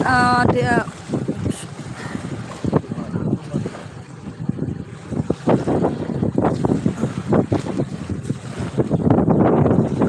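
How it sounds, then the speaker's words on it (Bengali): Strong tidal-bore waves surge along the Ganges opposite Belur Math, a rough rushing wash buffeted by wind noise that builds louder toward the end, with a person talking over it. "প্রচণ্ড প্রচণ্ড জলের ঢেউ দিচ্ছে"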